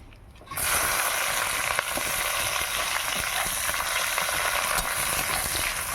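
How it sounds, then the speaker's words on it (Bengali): Sliced onion and whole garlic cloves hit hot oil with bay leaf, cardamom and cinnamon and erupt into a sudden loud sizzle, then fry with a steady, dense crackle that holds level throughout. "পেঁয়াজ ভালো করে ভেজে নেব"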